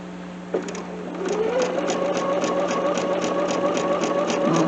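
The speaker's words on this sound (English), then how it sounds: "And I'm sewing on a Bernina 770." A Bernina 770 sewing machine stitches patchwork at a 2.5 stitch length. It starts with a thump, then runs up to a steady, rapid mechanical whir with even ticking close by.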